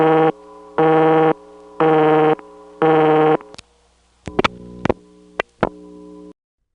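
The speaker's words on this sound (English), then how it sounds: "When I pick up my hook switch, we hear the equipment in the CO doing a coin return." Bell #355 step-by-step central office equipment on a long cable pair in Batesburg SC, 1977, running a coin return: four loud buzzing tone bursts, then a scatter of sharp relay clicks over a low steady hum that cuts off.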